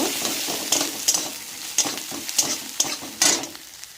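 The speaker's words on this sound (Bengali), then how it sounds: "আমার পেঁয়াজটা প্রায় বাদামি কালার এসে গেছে ওর মধ্যে হাফ চামচ রসুন বাটা দিলাম আবারও নাড়ব" Browned onion with garlic paste sizzles steadily in a pan for a fish-head mixed-vegetable dal, broken by repeated scraping strokes of a spoon stirring at a loose, uneven rhythm, close and fairly loud with no talk.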